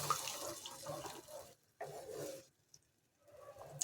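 Water left from rinsing a bowl poured into a home kitchen pot with fish, splashing in two close bursts, a pause, then a softer trickle returning at the end.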